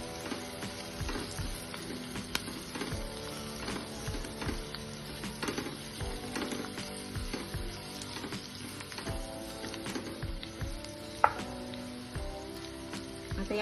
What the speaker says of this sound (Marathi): तर यामध्ये मी आता हे कारले टाकून घेते. त्याला आपण हळद आणि मीठ लावून ठेवलं होतं. आणि हे छान परतून घ्यायचे.